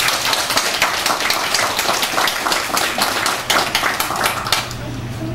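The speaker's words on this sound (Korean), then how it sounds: "하나님께 영광의 박수를 한번 올리겠습니다" A church congregation applauds the choir after its hymn, producing dense, sustained clapping that stays loud and steady throughout, with a voice faintly beneath.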